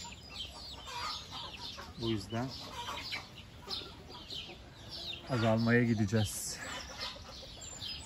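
Farmyard flock of hens and roosters clucking and calling around someone talking, with a couple of louder rooster calls standing out near and mid-distance over a steady murmur of fowl.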